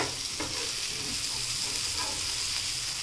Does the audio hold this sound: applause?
no